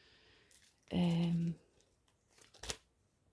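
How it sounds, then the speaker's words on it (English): Tarot cards being shuffled, soft papery riffles and a sharp snap near the end, with a brief tonal squeak-like burst in between, fairly quiet and close. "while I go through the shuffling and through selecting your cards"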